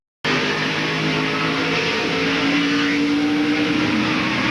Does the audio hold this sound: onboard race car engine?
yes